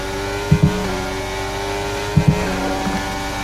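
Formula 1 cars from F1 23 run three wide into the Parabolica at Monza, a loud steady high engine whine with brief gear-shift blips and a downshift in the background.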